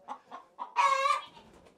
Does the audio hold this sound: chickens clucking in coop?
yes